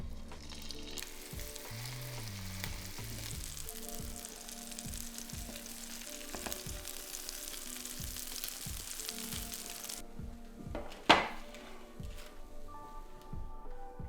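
Crab cake patties fry in oil in a pan with a steady, dense sizzle throughout and a brief louder clatter near the end.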